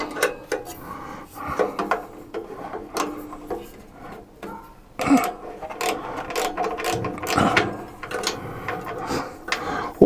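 Bolts being tightened up in a workshop, with a series of sharp metallic clicks and ratcheting bursts spread irregularly through the stretch, fairly close and moderately loud, with no talk over them.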